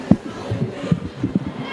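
Crowd noise at a women's premiership rugby league game: a moderate, willing murmur of spectators with scattered shouts and cheers rising and falling over a couple of seconds.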